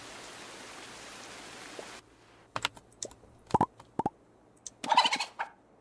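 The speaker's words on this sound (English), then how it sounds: "Happy chicken noises." Chickens in the farming video game Moonlight Peaks give short, sharp clucks and bursts, sparse and close, over a quiet background, without anyone talking.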